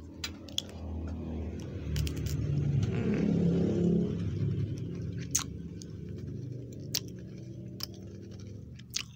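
Someone chews a crunchy vanilla cream Cookiez biscuit close up, with soft crunches spread through a quiet stretch, a low rumble like passing traffic behind it and scattered sharp clicks.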